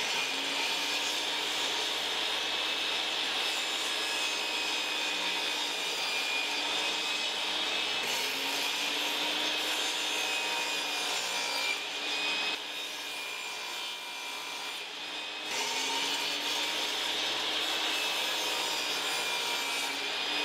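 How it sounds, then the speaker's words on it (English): A table saw cutting a test board on a shop-made crosscut sled: a loud, steady whine with the blade in wood, holding for the whole stretch with a brief dip partway through; no talk. "I'm going to go ahead and cut a few test boards or one board"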